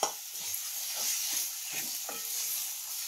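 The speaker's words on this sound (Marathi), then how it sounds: "आपण तयार केलेलं जे वाटण आहे ते ह्यामध्ये घालायचे आणि ह्याला छान तेलावर परतून घ्यायचे" Ground masala paste for chicken frying in oil, a close, steady hiss and sizzle with soft scraping stirs throughout, no voices.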